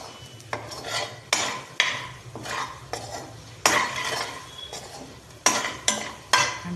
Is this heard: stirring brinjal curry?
yes